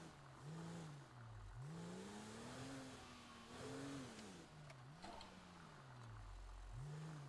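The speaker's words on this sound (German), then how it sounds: "Ah, Motor funktioniert." A car engine in the GTA RP video game, during a driving-school session, runs and revs in repeated rising and falling swells, a steady mid-pitched hum, faint and without talk.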